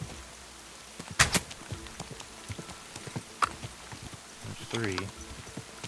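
A horse in Kingdom Come: Deliverance 2 clip-clopping during a horse race with mounted archery, hoofbeats irregular and moderately close, mixed with game effects and someone talking over them.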